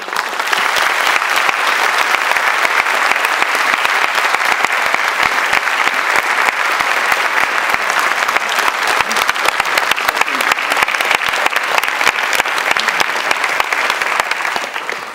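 Audience applause at a university convocation welcoming Chancellor Cummings, a steady, dense wall of clapping from a large crowd that holds at full strength for about fifteen seconds before starting to taper.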